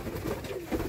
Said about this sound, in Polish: O, to jest kurwa gołąb